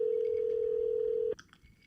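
A phone call ringing out on speakerphone: one steady, loud ringback tone holds for over a second, then cuts off abruptly, leaving faint scattered noise.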